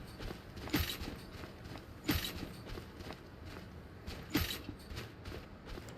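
Horse hooves in Skyrim, a few soft, spaced footfalls landing roughly every one to two seconds, fairly faint over a quiet background with no talking.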